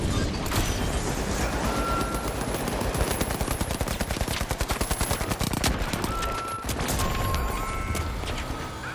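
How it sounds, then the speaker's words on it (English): Sustained gunfire and automatic turret shooting in The Finals, a dense rapid machine-gun rattle of evenly spaced shots that runs loudly for several seconds alongside scattered other fire and mechanical clanks. "I'm getting shot from everywhere. Oh, the turret."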